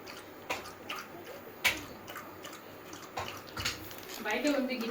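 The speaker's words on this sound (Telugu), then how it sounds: "చూడండి, ఇప్పుడైతే నీళ్ళు తాగుతుంది అక్కడ" Pet Lucky laps water from a bowl, giving soft wet splashes and drips in an irregular run of close, light strokes, with faint voices in the background.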